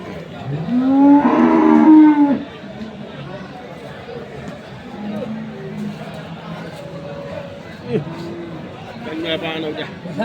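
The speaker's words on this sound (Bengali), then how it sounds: "আমরা দেখি কুচাবাড়ি হাটের যে গাভি গরুগুলো রয়েছে" Dairy cows with calves at Khochabari cattle market in Thakurgaon give a loud, drawn-out moo up close, followed by quieter livestock sounds and distant crowd chatter of the busy market.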